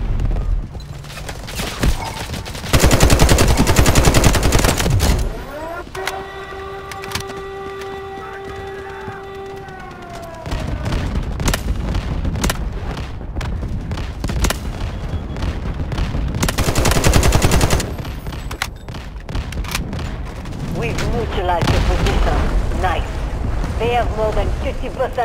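Artillery barrages and heavy gunfire from the Delta Force: Hawk Ops video game: loud, dense bursts of automatic fire and booming blasts, with a brief tonal radio-like sound partway through.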